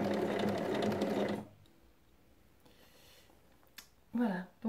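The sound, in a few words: sewing machine stitching around a fabric basket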